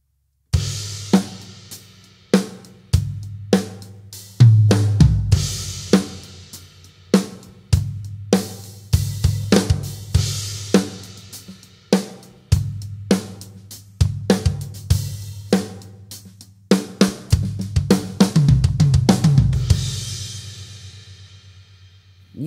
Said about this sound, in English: you should play fill-ins that definitely make sense and fit the music